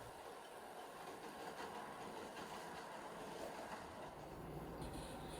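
A model railway train reverses slowly from a four-road yard into a seven-road yard, giving a quiet, steady running rumble with faint rail clatter throughout.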